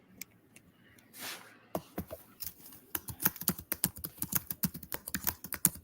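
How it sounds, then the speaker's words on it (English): Someone is typing on a computer keyboard in the background, starting with a few scattered clicks and building into a rapid, uneven stream of crisp keystrokes. "She's typing in the back"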